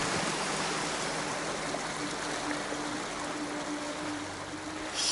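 Steady broadband rush of flowing water in the video game Ghost of Tsushima, continuous and fairly even throughout, with a faint low hum beneath and no one talking.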